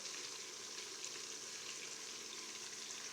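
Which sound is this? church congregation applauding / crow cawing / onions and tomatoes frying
onions and tomatoes frying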